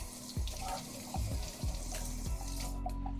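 Kitchen tap water runs steadily while lamb-gyro ingredients are rinsed at the sink, a continuous close hiss with a faint low hum and a few light knocks underneath.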